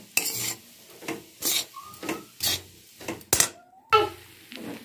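Food mixed in a pan with salt just added, heard as about eight rhythmic scraping strokes of a utensil, loud and close, with short quiet gaps between them.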